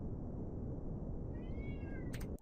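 A house cat lets out a single drawn-out meow, rising and falling, over a loud steady background hum, followed by a brief sharp click at the end.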